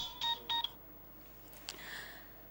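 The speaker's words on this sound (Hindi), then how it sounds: "लो, अलीना का नाम लिया और उसका फोन आ गया।" A few short electronic telephone tones, two clear beeps followed by fainter trailing ones, ring out over a quiet room hum in an Urdu TV drama scene.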